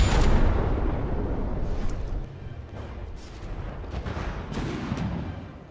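Shells hitting a frigate in the From The Depths naval combat game, heavy booming impacts and rumbling blasts in quick succession, loud at first then a series of sharper hits, no talking.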